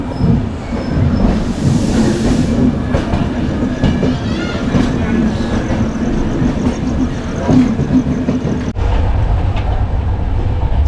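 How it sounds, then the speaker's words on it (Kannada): Kanyakumari Express passenger train running out of Bengaluru, a steady loud rumble with clickety-clack wheel rhythm throughout, heard from inside the coach, with a sharp shift in tone near the end. "ನಮ್ಮ ಟ್ರೈನ್ ಪ್ರಯಾಣ ಶುರು ಆಗಿದೆ ಇವಾಗ"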